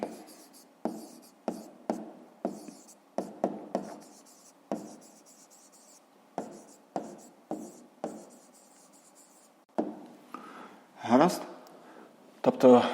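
A pen scratches on paper while an answer to a 5th-grade math exercise is written down: a series of short, crisp strokes in uneven bursts, close and fairly quiet, with some talk alongside.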